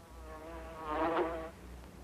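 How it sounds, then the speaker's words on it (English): A faint bee buzz hums steadily, swelling louder for a moment as if a bee flies close by, then fading back. "Have you ever known your bees to swarm anyone, Mrs. Van Bolen?"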